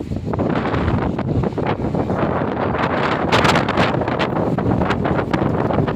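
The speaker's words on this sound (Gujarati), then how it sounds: "ચૈત્ર મહિનાનો દિવસ પવન વાવાઝોડા સાથે ખરો" An unseasonal evening windstorm in a Gujarat village roars continuously, gusting hard against the microphone with a rough, rushing hiss and no talking.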